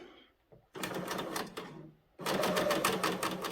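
A coverstitch sewing machine runs through plaid fabric in two steady bursts of rapid mechanical stitching, close and fairly loud, separated by a short pause.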